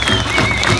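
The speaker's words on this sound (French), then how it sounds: "je veux entendre des applaudissements plus fort que ça" A crowd claps and cheers at the start of the Echappée Belle 2019 trail race across the Belledonne mountains, a loud close burst of steady applause over its short length.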